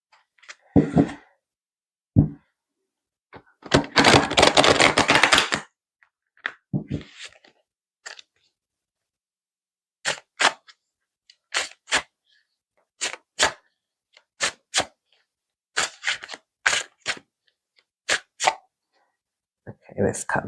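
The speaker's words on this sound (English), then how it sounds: "Okay, let's cut the cards." Tarot cards being cut and shuffled: a dense riffle burst early, then a string of separate crisp slaps and taps as cards are laid down, each one close and distinct against quiet.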